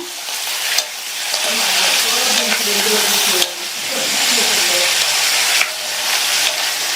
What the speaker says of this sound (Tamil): இந்த காயை எண்ணெயிலேயே ஹை ஃப்ளேமில் வச்சு ஒரு 2 நிமிஷத்துக்கு வதக்கி விட்டுக்கோங்க.